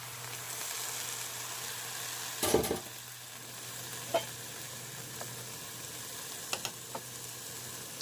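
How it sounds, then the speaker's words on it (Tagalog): Coconut milk, the first pressing, hits a hot pan for laing and sizzles steadily for several seconds, with a sharp burst near the start and a few faint clinks afterward. Nobody speaks. "Tapos, lagyan na natin yung ating gata, yung unang gata."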